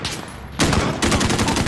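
Bursts of rapid gunfire in a Call of Duty: Modern Warfare (2019) embassy mission, loud and close, starting abruptly after a quieter moment and continuing as dense overlapping shots.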